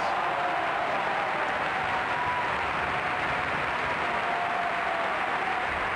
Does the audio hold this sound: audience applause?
yes